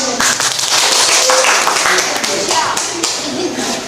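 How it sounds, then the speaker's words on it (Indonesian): A class of students claps their hands during a classroom lesson, with loud, scattered claps throughout and voices talking over them. "Oke, tepuk tangan."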